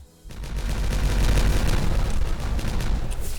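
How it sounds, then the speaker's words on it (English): Dynamite detonating in Timberborn: after a short silence, a loud rumbling blast erupts and rolls on as a dense, crackling boom that holds for several seconds. "we can now detonate all of this"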